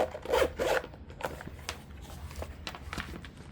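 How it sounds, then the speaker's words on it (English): Zipper on a Nintendo Switch 2 carrying case catching and dragging in short rasping pulls, close and fairly quiet, followed by light rubbing and handling noises. "Oh, zipper stuck."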